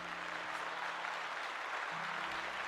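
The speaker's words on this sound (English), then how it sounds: "let's give him a round of applause" An audience at a live Dungeons & Dragons question-and-answer show breaks into applause, a dense, even wash of clapping held at steady level throughout, with faint background hum.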